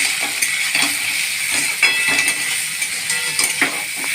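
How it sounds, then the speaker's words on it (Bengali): Vegetables, including brinjal and bori, fry steadily in a spiced pan, the crackle dense and close. Stirring scrapes and light utensil clinks break through it now and then, with no voices. "সবজিগুলো ভাজা হয়ে গেছে"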